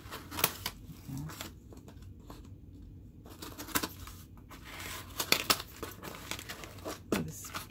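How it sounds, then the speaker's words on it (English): Scattered crinkling and tearing of the packaging of an ink order with a few sharp scissor snips, close and moderately loud, separated by brief quiet gaps. "Scissors."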